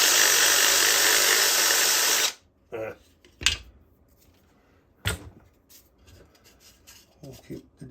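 A drill bit reams out a hole in a Halloween animatronic pumpkin, a loud continuous whirring grind for about two seconds, then stops, followed by scattered knocks and handling noises.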